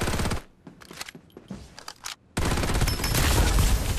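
Rapid bursts of automatic gunfire in a video game crackle loudly, with a short pause of scattered shots before a long sustained volley.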